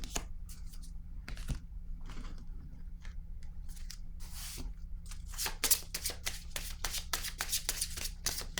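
Playing cards riffled and handled at close range, with quick bursts of crisp flicking and snapping that get busier and more rapid toward the end, over a quiet background.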